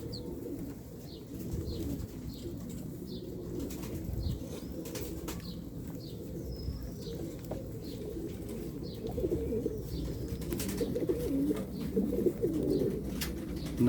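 A loft of older pigeons, roughly thirty hens and sixty cocks, coos steadily in low, overlapping rolling calls, with occasional wing flaps and faint chirps scattered over a continuous nearby murmur.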